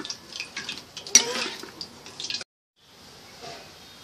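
Deep-fried chicken being stirred into gravy in a pan, giving soft wet squelches and light scraping of a utensil, fairly close, with a brief silent gap before quieter stirring resumes.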